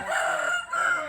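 An ornamental rooster crows close by in one sustained, strained call that dips briefly and then carries on, with no talking.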